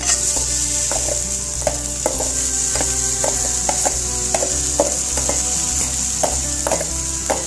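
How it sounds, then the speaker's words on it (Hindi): Rice tossed in a pan of hot oil sizzles steadily, and a spoon scrapes and stirs through it in a regular rhythm of close, crisp clicks. The sound is loud and near, with no voices. "और इसको मैं हल्का फ्राई कर दूँगी।"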